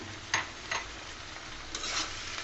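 Scrambled egg with onion stalks is stirred in a pan, producing a few soft scraping strokes over a faint, quiet sizzle, close by and without voices.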